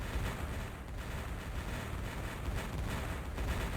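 Tanks firing in the space strategy game Imperium Galactica, a continuous rumbling barrage of booms and blasts, dense and fairly loud throughout.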